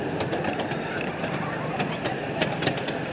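Steady rumbling and clattering of a small open amusement park train at Knoebels, Pennsylvania, rolling along its track, with a continuous mechanical drone and faint rhythmic clicks.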